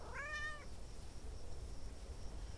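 A single short, rising-and-falling cat meow at the start, then quiet room noise with a faint hum.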